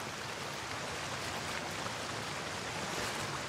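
A waterfall in the video game Atomfall gives a steady, soft rushing wash of water noise with no pauses throughout.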